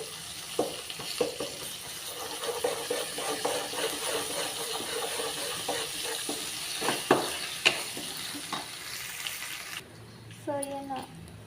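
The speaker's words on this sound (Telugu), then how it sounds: "పచ్చివాసన పోయే వరకు వేయించుకోవాలి." Ginger paste frying in a pan for a chana dal and soya curry gives a close, steady sizzle broken by stirring scrapes, and a brief voice is heard near the end.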